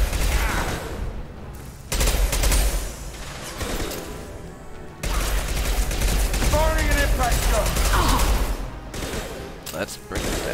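Combat gunfire in the sci-fi shooter Mass Effect 2, loud sustained bursts of weapon fire in two long stretches broken by brief lulls, with voices mixed in.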